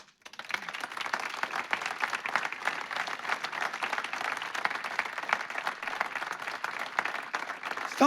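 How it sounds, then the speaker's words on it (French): A large audience rises in a standing ovation, sustained dense applause building quickly after a brief quiet start and continuing steadily at moderate distance with no speech over it. "Standing ovation pour l'affiche. On se lève, on applaudit"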